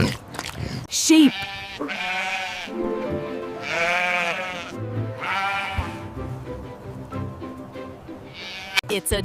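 A sheep bleats in several long, wavering, nasal calls close by, each a drawn-out quavering cry with short pauses between.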